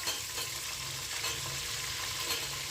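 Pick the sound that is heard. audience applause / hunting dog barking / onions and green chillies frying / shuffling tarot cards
onions and green chillies frying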